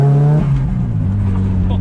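Nissan S15 with a new resonator, its engine revving hard and close, then dropping to a lower steady drone, with people talking over the engine noise.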